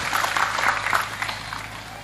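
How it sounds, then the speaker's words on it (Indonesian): An audience applauds at a live Islamic study gathering at a boarding school, a dense steady patter of many hands clapping that starts full and gently tapers off over a couple of seconds. "mau tepuk tangan nih loh"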